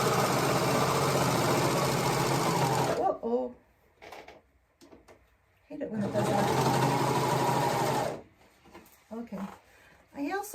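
A serger sewing machine stitches along curved fabric in two long, loud bursts of steady mechanical whirring. Brief pauses with small clicks and handling noises separate the bursts.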